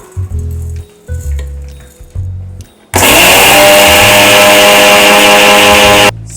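Rolled oats being ground into oat flour in an electric grinder, a loud continuous high-pitched whir that starts abruptly and runs for about three seconds before cutting off, after some quieter clinks and handling noises.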